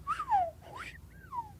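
A voice imitates a slide whistle with a few quick sliding whistled glides, rising and falling pitch sweeps close up, with no other talk.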